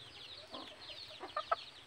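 A captured Talisayin chicken gives a few soft, faint clucks, with two sharper calls near the end.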